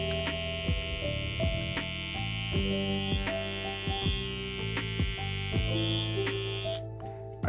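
A Supreme hair trimmer runs with a steady, close electric buzz and hum. Its tone stays constant as faint clicks and handling sounds pass over it, then it cuts off at the end.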